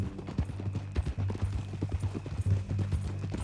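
Horse hooves clip-clop steadily on the ground in Red Dead Redemption 2, a close, continuous rhythmic trot over a low background rumble.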